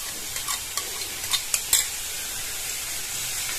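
Tomatoes and capsicum frying in a pan, a soft steady sizzle under a short run of light scraping stirs that fade after a couple of seconds.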